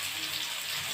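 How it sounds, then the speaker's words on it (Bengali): Water poured into a pan of fish curry with new potatoes, a continuous close splashing gush filling the whole second at a steady level. "এখন আমি জল দিয়ে দেবো।"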